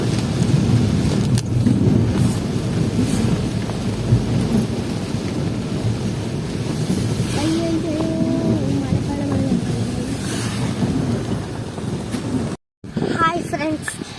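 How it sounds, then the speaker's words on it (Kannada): Steady rain with deep rolling thunder near the Sigandur bridge, a dense continuous roar close to the microphone, with voices talking faintly underneath and a brief dropout near the end. "ಮಳೆ ಬರ್ತಾ ಇದೆ"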